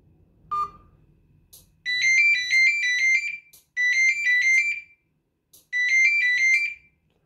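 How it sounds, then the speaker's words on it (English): A phone rings after being triggered by a DTMF serial script. A brief beep is followed by three bursts of a bright electronic ringtone with repeated warbling tones, each burst about a second long, loud and clear with no voices. "If I press 5, one of the phones will ring."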